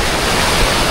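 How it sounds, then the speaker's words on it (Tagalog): Ocean waves at a surf beach in Baler, Aurora, a loud, full wash of breaking surf roaring steadily without pause. "Ay, ang laki ng alon."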